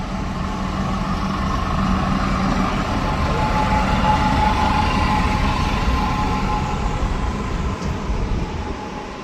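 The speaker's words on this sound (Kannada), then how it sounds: "ಇವಾಗ ನಾವು ಹೋಗ್ತಾ ಇರೋದು 77635 ಬೀದರ್ ಕಲಬುರಗಿ ಡೆಮೋ ಟ್ರೈನ್" Steady rumble of a Bidar–Kalaburagi DEMU train in motion, heard from on board as a continuous loud drone with no talking.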